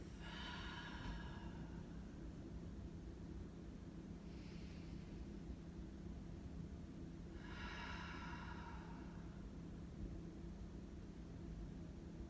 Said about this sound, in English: Belly rising and exhaling through your mouth.